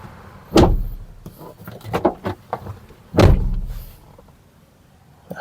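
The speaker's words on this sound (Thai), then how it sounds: "เราปิดประตูก่อนนะครับ" The door of a used Toyota Vigo pickup truck shuts with a heavy thud, followed by lighter clicks and rattles and a second solid slam, close by with no talking.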